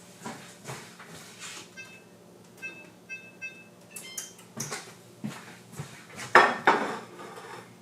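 A baking pan is handled in a home kitchen, giving a series of light metallic clinks, taps and scrapes at irregular intervals, close and fairly quiet, ending with a couple of sharper clanks.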